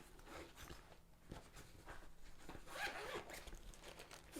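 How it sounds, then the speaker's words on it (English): A zipper on an electric guitar gig bag is pulled open in several short, close, quiet scratchy runs during an unboxing. "Gig bag's got this little extra zipper."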